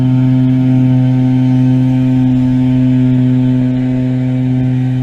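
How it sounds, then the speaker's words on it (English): Outdoors in Colorado Springs, a leaf blower drones steadily at a nearby distance, a constant loud buzzing hum that holds through the whole five seconds with no talking over it. "sorry for the leaf blower"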